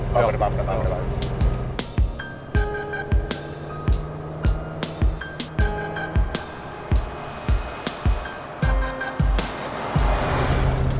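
A Lincoln flathead V8 runs in a classic Lincoln car, a steady low engine rumble broken by regular sharp knocks, with people talking over it.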